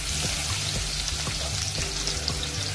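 Four or five crushed garlic cloves sizzle steadily in hot oil with cumin seeds for a traditional Maharashtrian colocasia-leaf aamti, a continuous close hiss with faint pops and no talking.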